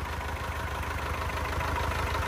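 An Isuzu 4KH1 diesel engine idles smoothly and quietly, a steady low even rumble close by with no misses, alone without talk.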